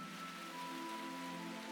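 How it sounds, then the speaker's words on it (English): Rain beginning to fall in the video game Root Letter, a steady soft hiss of rainfall with a sustained musical tone underneath, even and continuous throughout. "Oh no, it's starting to rain!"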